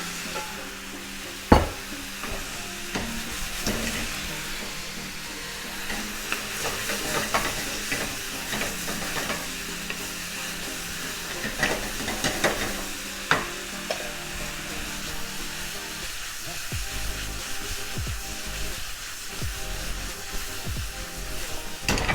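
Beef for lomo saltado goes back into a hot pan and gets stirred, a steady frying sizzle broken by scraping and knocking of the utensil, close and moderately loud, with no talking.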